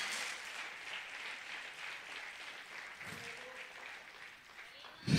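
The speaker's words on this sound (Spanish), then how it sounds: "Dale un aplauso al Señor" A congregation at a Sunday church service claps in praise, the applause fairly quiet and thinning, with a voice briefly over it and a louder burst right at the end.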